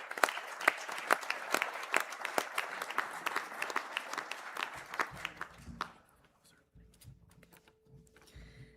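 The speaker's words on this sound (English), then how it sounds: "And could we all give those graduates a round of applause," A graduation conferring audience applauds the graduates, distinct hand claps at first that thin out and stop near the end, leaving a quiet hall with low murmurs.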